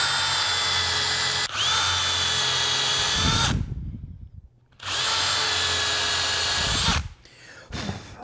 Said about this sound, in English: I like to use an awl to get the hole started so that I know it'll drill in the exact spot I want.